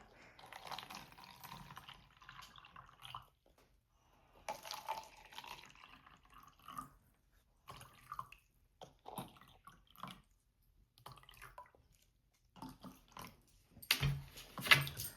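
Water poured from a container into clear plastic cups for a walking water experiment, several soft intermittent trickles and pours separated by pauses, faint and close, ending with a brighter splash.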